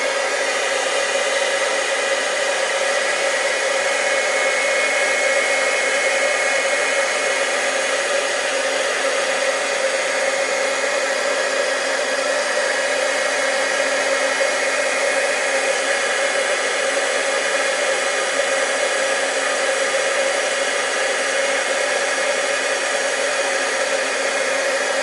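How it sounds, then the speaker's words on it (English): A heat tool runs continuously for about 25 seconds, drying and warming stamped paper with a loud, even blowing roar that never changes. "as I heat the paper and dry it, because we want to stamp on it now, it'll help flatten it out a bit too"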